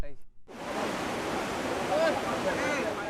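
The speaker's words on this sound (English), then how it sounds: "The river was dangerously high" A dangerously high river in the Darien Gap rushes steadily in a dense, broad roar that fills the clip after a brief quieter start.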